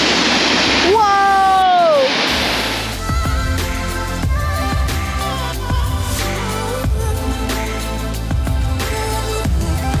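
Water rushes through a narrow rocky canyon in Jasper National Park, a steady loud roar with splashing. A voice gives a short exclaim near the start.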